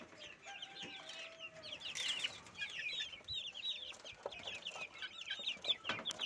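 Young naked neck chicks cluck and cheep in a dense, continuous chorus of short high peeps, fairly close, with fuller chicken clucks mixed in, on a village poultry farm.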